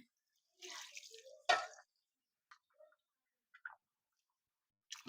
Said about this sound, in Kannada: ಅದನ್ನ ನೀಟಾಗಿ ತೊಳ್ಕೊಂಡು ಮಸಾಲೆನ ಮತ್ತೆ ಅದೇ ನೀರನ್ನ ಹಾಕೊಳ್ತಾ ಇದ್ದೀನಿ